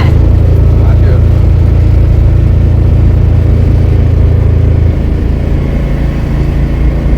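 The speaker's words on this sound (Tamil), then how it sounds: "இது எல்லாமே ட்ரைவிங் ஸ்கூல் வண்டி தான் ஒன்றா போகுது பார்த்தீங்களா" Driving school cars rolling past in a row on a street, a continuous close engine rumble and road noise that drops slightly in level partway through.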